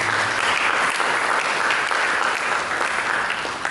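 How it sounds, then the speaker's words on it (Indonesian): A church congregation claps steadily for several seconds, dense sustained applause filling the room during a worship service sermon. "Berikan tepuk tangan bagi."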